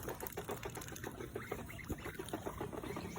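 Ducks quack repeatedly in a farmyard where geese are also kept, a run of rapid nasal calls in quick succession, faint and somewhat distant, with no talking over them.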